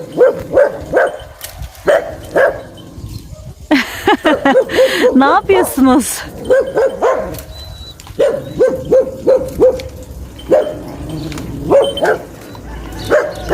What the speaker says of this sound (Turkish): Bunlar av köpeği.